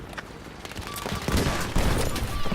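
Gunfire crackles through a multiplayer match of the video game Battlefield 5, with overlapping bursts and thumping impacts building into a steady, chaotic barrage.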